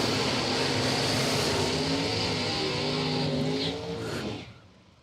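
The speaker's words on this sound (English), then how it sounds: "Looks like an Ulmer vehicle in the left, Nova in the right" Drag race cars at a bracket race roar in a loud sustained engine blast, a Nova in one lane, holding full throttle before fading away fast as they pull off down the strip.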